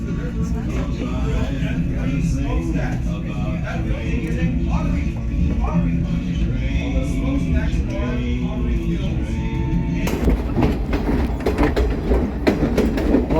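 A Verde Canyon Railroad train in Arizona rumbles steadily along the rails with rhythmic clacking and metallic squeals, loud and close, with no talking.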